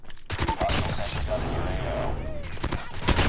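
Renetti burst SMG in COD Mobile, with dense, loud gunfire crackling steadily for several seconds amid in-game noise and a few sharper shots near the end.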